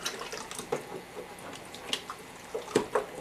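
Diced tomatoes with their juice and tomato paste stirred together for a quick marinara, giving soft, wet squelches and scattered clicks of a utensil against the pot, faint and close.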